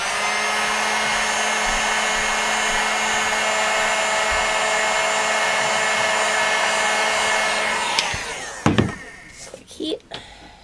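Heat gun blowing hot air onto Thibra thermoplastic sheet, a loud steady whine and rush for about eight seconds, then switching off into scattered handling clatter.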